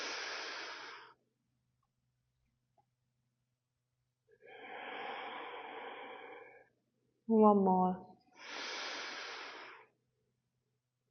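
Slow, steady breaths drawn in and let out through the nose during a Pilates breathing exercise, long airy exhales separated by quiet pauses, with a brief spoken cue between them.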